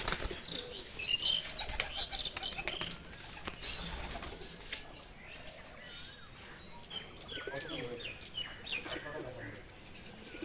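Madras pigeons flapping their wings in a loft, a busy clatter of wingbeats in bursts with faint chirps and a voice now and then in the background.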